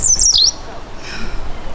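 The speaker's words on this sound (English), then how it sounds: "All the birds are singing." Bright, high bird chirps flutter for about half a second at the start, then fade into soft outdoor background noise.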